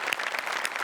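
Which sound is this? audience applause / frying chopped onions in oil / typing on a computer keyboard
audience applause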